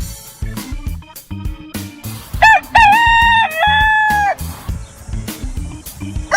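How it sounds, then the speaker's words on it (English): A domestic rooster crows a loud, close cock-a-doodle-doo once, amid rhythmic low thumps and scattered farmyard noise. "Rooster."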